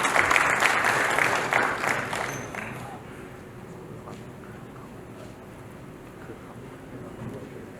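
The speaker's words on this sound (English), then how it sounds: "So ladies and gentlemen, a huge round of applause for Mr. Hemant Kaushik." Audience applause at an evening brand awards ceremony greets Mr. Hemant Kaushik, loud and full for about three seconds before fading into quiet hall ambience.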